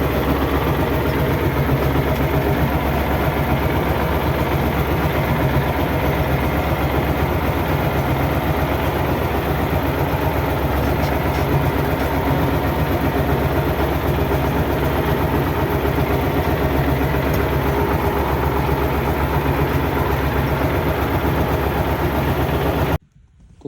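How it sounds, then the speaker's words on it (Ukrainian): A small walk-behind tractor's engine chugs steadily nearby as it drives forward in gear, a continuous loud mechanical rumble with constant rhythm that stops abruptly at the end. "тобто тракторець поїхав."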